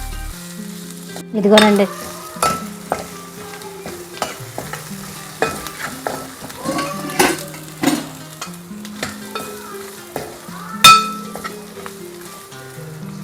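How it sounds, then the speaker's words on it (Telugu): Prawns fry in oil seasoned with turmeric and salt, a steady close sizzle broken by sharp stirring scrapes and clinks against the pan, with a brief spoken word near the start. "అలాగని ఇవి కొంచెం ఇలాగా ఫ్రై అవనిద్దాము"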